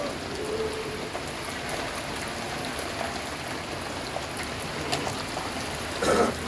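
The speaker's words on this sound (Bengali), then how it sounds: "আজকে অনেক দিন পরে বৃষ্টি হচ্ছে" Rain falls steadily outdoors after a long dry spell, a dense, close hiss of drops striking surfaces that continues without a break and swells slightly toward the end.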